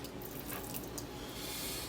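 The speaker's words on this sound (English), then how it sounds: "Need some more water in there, I think. You gotta completely just submerge them" Tap water runs steadily into a container to soak freshly picked morel mushrooms, a continuous close splashing rush with no talking.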